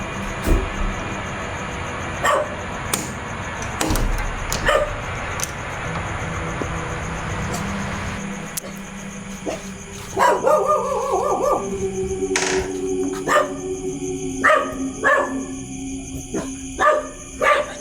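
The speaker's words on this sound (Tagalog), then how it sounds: "Tolong mga aso mga man." Dogs bark and howl outdoors at night beside a house, repeated sharp barks over steady background hum, then a long drawn howl and more scattered barks, moderately close.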